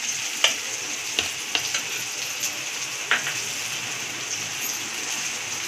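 Sugar being stirred into a simmering yellow Maharashtrian kadhi, a soft steady hiss with a few light, scattered clicks of a spoon against the pot, moderately loud, no voices.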